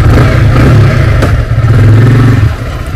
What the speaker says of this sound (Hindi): बाइक स्टार्ट कर लेते हैं।